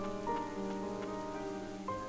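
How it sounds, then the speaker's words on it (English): Rain falling in the dark fantasy game Ender Lilies: a soft, steady patter under sustained melancholic music tones, quiet and even, with no voices. "Should I not be in the rain then?"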